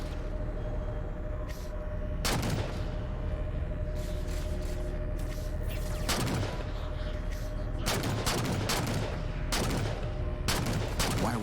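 Bursts of gunfire crack out in Halo 4 at a few irregular moments over a steady low rumble, moderately loud, with no talk in between.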